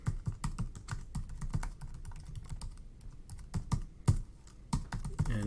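Someone types an email address on a computer keyboard in quick, uneven bursts of close, crisp key clicks with short pauses between them.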